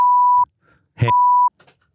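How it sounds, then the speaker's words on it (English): Two loud, steady censor beeps, each about half a second long, are separated by a short burst of speech, with faint voice fragments trailing after the second tone. "He's gonna have to beep all of them."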